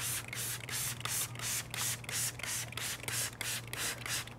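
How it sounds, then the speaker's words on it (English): Tea sprayed onto paper from a hand spray bottle, a rapid series of about ten short, crisp hissing bursts in a regular rhythm, close and fairly loud against a faint background hum. "Now this one, let me try to spray some."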